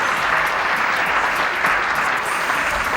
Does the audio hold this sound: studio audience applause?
yes